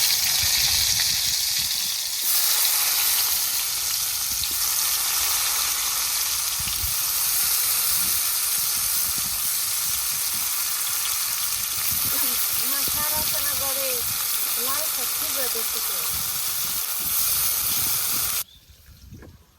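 Loud, steady sizzle of eggplant frying in a pan, a village kitchen dish, with a constant hiss running throughout, brief voices partway through, and the sound cutting off abruptly near the end.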